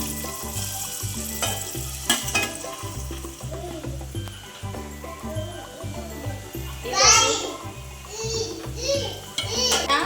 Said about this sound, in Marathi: कांदा टाकते फोडणीला